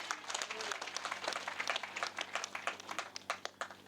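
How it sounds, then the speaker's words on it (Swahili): A church congregation gathered at a house dedication claps in fast, uneven bursts, fairly quiet and sounding like a small crowd, with a murmur of voices underneath. "Tupigie Yesu makofi."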